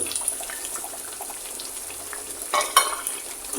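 Potatoes tipped into a hot frying pan while cooking a bitter gourd and pangas fish curry give a faint, steady sizzle with soft stirring clinks, then a few louder scrapes and clatters near the end.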